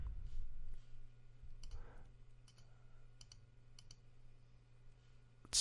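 A few sparse, crisp mouse clicks while working in the Free Toast Host web agenda, spaced irregularly over a quiet hum, with a louder click at the very end.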